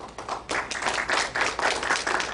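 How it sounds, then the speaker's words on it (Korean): A church congregation claps in welcome, with a short burst of soft, uneven applause in several quick waves. "우리 환영의 박수 하시고요."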